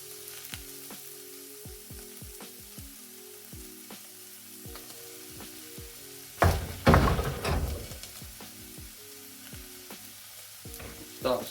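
Onions, garlic and pork mince sweating in a pan, giving a steady low sizzle with rhythmic spoon taps and scrapes against the pan, then a burst of louder crackling and stirring midway.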